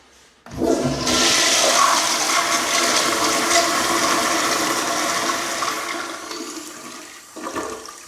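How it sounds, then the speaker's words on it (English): A Zurn commercial toilet flushes once with a loud, sustained rush of water that holds steady for several seconds before tapering off, followed by a brief gurgle at the end. "Everything is flushing as it should."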